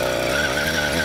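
A 50cc petrol engine fitted to a mountain bike revs hard as the throttle is wound, a loud, close, continuous buzzing whine rising slightly in pitch over a brief moment.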